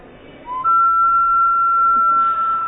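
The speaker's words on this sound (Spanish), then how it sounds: "Silba como hombre, silba." A single sustained whistle tone from an anthropomorphic whistling bottle vessel slides up briefly, then holds steady and clear for about two seconds, airy and close.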